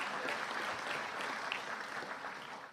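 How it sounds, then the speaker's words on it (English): A crowd applauds steadily at a police promotions ceremony, a dense wash of clapping that holds at an even level before trailing off slightly at the end. "Give Devarsh a round of applause."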